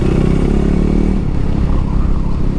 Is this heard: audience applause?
no